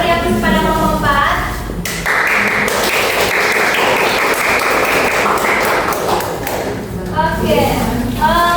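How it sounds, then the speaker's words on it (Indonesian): A classroom of students claps for a presenting group during a microteaching session, a steady burst of applause lasting several seconds, with a teacher's voice speaking before and after it. "Beri aplaus kepada kelompok 4."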